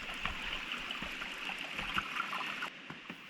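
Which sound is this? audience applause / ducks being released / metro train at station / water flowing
water flowing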